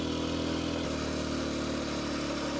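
Kawasaki KLX230 dirt bike riding a dirt road with washboard sections, a steady close engine drone with a shift in pitch partway through and constant rumble.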